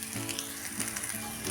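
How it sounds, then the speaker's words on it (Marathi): Sliced bitter gourd sizzling in a pan as it is fried until soft, a steady close crackle with faint stirring and no talk. "असं आता हे मऊ पडेपर्यंत आपण परतून घ्यायचं आहे."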